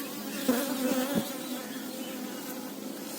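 Honeybees buzz steadily throughout a beehive inspection, a dense close-up drone with a brief louder swell near the start and no talking.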